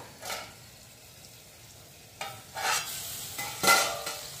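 Shrimp and water lily curry with mustard stirred and fried in a pan, soft scraping stirs and brief sizzling bursts in a few short clusters, fairly quiet with no talking.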